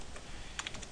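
Keystrokes on a computer keyboard at home, entering a command: a quick cluster of light clicks late in the moment, with softer taps earlier, close and fairly quiet.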